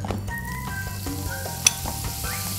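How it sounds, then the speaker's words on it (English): Butter melting in a hot pan on the stove, ready for diced onion, garlic and mushroom, gives a steady close sizzle with scattered pops and a few faint clinks of cookware, and no talking. "The butter is melting"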